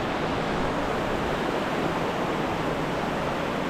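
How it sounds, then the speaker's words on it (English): Steady, dense roar of water rushing through the Aare Gorge canyon in Switzerland, loud and unbroken from below, with no talking. "Water down below."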